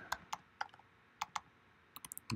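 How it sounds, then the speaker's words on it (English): Keys on a computer keyboard click sparsely and quickly while nonsense is typed into a form, with a short burst of several keystrokes near the end in a quiet room. "I'm just typing in some nonsense."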